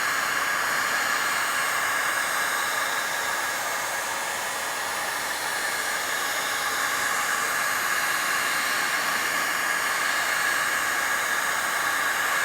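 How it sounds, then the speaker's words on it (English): A Silverline heat gun runs steadily up close, with a constant loud hissing whoosh of hot air and a fan whine held at an even level throughout. "This is just a normal silver line heat gun from Toolstation or Amazon."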